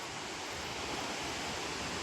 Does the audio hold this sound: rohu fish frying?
no